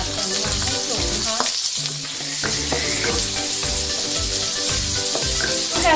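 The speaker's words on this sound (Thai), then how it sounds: "มาผัดจนมันให้สุกนะคะ" Carrots stir-fry in a hot pan for a vegetarian three-flavor tofu sauce, with a steady close sizzle and repeated scraping stirs of a utensil against the pan.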